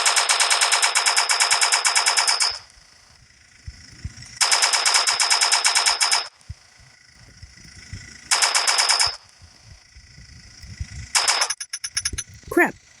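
Rapid automatic gunfire in the blocky shooter game Block City Wars comes in three long sustained bursts and a short final one, loud and close, with quieter gaps between them.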